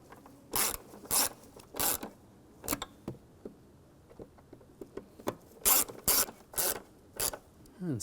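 Screws are driven in by hand on the mass air flow sensor of a 2004-2009 Audi A4 Quattro 2.0L. Close, crisp mechanical clicks and ratcheting come in separate short bursts against a quiet background.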